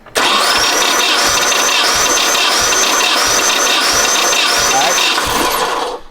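A Nissan 240SX engine cranks over with its spark plugs removed and fuel pump fuse pulled, a loud, even, rhythmic starter whir with regular compression beats lasting several seconds, close up, then stopping.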